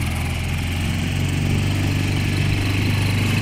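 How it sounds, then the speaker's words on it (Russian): An outboard boat motor on the Vetluga River drones steadily and loudly at close range, a continuous buzzing motor hum with no pauses or voices. "Мотор завелся."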